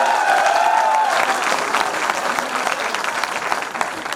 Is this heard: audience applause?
yes